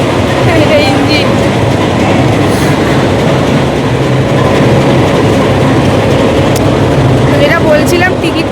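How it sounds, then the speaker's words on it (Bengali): A train engine idles at a station platform with a loud, steady, close rumble and faint clattering. Indistinct voices murmur in the background. "আমাদের ট্রেন, এটা ইঞ্জিন।"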